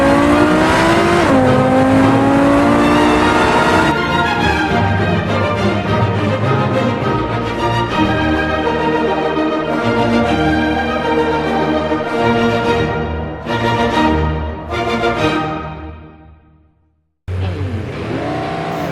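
The Gavril GD808 hypercar's V10 engine roars loudly in the BeamNG video game, revving up with rising and falling pitch as gears shift, holding a sustained high whine before cutting out briefly and resuming.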